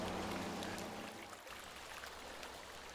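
River water churns steadily over rapids in a soft, continuous rushing wash, fairly faint and unbroken, with no voices.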